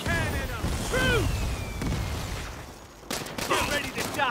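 Cannon fire and gunfire rattle through a Saints Row game fight: a dense volley of blasts near the start, a quieter stretch, then another burst of shots near the end, with game voices mixed in.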